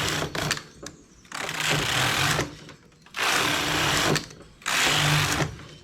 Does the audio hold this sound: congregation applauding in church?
no